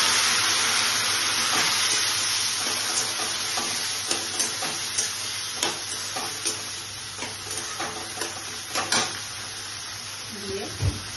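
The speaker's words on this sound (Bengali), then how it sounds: "কারি পাতা দিয়ে ছোলার ডালটাকে সিদ্ধ করে দিয়ে দিচ্ছি।" Chana dal with curry leaves frying and being stirred in a pan for cholar dal tadka, a continuous close sizzle with repeated sharp scrapes and clinks of the spoon against the pot.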